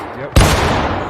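A single sharp musket shot cracks out in the Civil War game War of Rights, loud and close, followed by a rolling echo and the crackle of distant gunfire.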